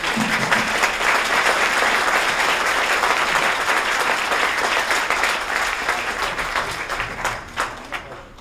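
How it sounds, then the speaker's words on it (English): Guests at a chamber of commerce small business awards event give Aaron a round of applause, a full, dense crowd clapping that holds steady for several seconds and then thins out. "why don't you all join me in a round of applause for Aaron"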